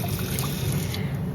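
Glutinous rice being washed in water for biko, a close, continuous sloshing and trickling with a low rumble underneath, no voices.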